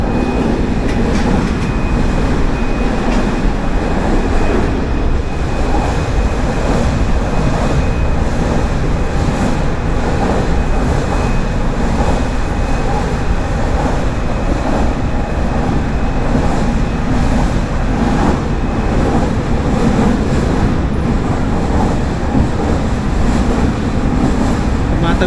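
Steady rumble and rattle of a train running across the sea bridge toward Kansai Airport in Osaka, Japan, heard from inside the car as an even, continuous drone with faint voices now and then.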